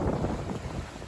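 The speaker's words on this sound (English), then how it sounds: "really fast sailing" A sailboat moving fast on a reach at sea, with a continuous roar of wind buffeting the microphone over rushing water, loud and unbroken throughout.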